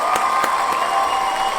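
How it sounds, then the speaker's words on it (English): A brief burst of crowd applause and cheering, dense and continuous, with a few sharper claps standing out. "round of applause"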